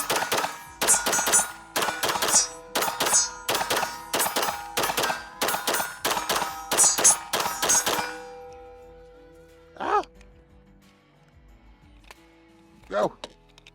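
A Springfield Armory Kuna fires a magazine in quick successive shots, sharp close reports in a steady rhythm, followed after a pause by a couple of isolated ringing hits, with faint talk in the background.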